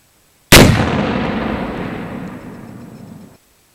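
A Gryphon Energetics exploding target going off outdoors, one sudden loud blast followed by a long rolling echo that fades over about three seconds.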